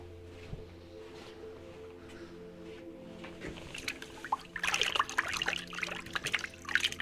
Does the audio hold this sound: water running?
yes